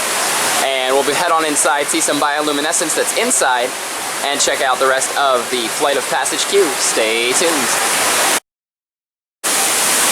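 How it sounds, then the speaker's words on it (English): A waterfall spills down rocks in the Pandora area of Disney's Animal Kingdom, a constant broadband rushing hiss beneath someone speaking close by, briefly cut to silence near the end. "Here we see a waterfall right on the side of the rocks"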